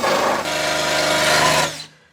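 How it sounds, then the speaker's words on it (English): Wire brush scrubbing rust off a wheel on a 1972 Super Beetle, a loud harsh continuous rasping close up that stops abruptly near the end. "Now I'm just going to go over everything with the wire brush."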